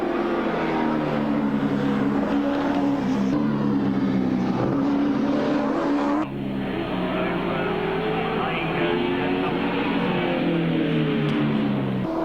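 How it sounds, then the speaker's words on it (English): Touring race cars at the 1983 Bathurst 1000, including the STP car, roar past with loud engine notes that shift pitch through gear changes, a sustained near howl that fades with a sudden drop partway through, while a commentator talks over it. "Colin Bond at the wheel of the STP car."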